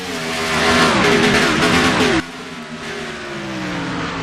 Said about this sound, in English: The green flag is in the air and the Fiber Fuel 500 is underway.